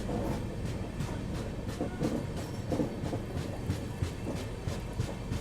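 The Kashi Vishwanath Express gathers speed, with a steady rumble and rhythmic clickety-clack of wheels over rail joints heard close and continuous at dusk.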